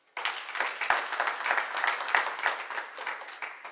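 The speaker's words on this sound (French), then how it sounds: "Est-ce qu'on peut acclamer Dieu?" A church congregation breaks into applause during a French-language sermon, a dense, steady wash of many hands clapping with a few louder claps standing out, sustained for several seconds.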